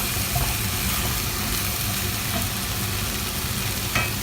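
Potatoes fry and get stirred through spices in a pan for an aloo dum potato curry, a steady close hiss of sizzling oil with faint scraping of the stirring, no talking.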